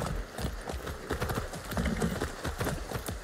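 Horse hooves clip-clop in a steady, even rhythm, fairly close and moderately quiet, in the video game Far Cry 6.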